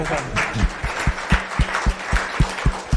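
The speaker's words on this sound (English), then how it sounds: "One more round of applause for Jason and the lunch, please." An audience at a healthcare services event gives a round of applause, with continuous clapping and a few louder, regularly spaced claps standing out near the front.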